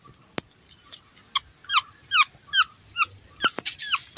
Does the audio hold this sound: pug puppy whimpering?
yes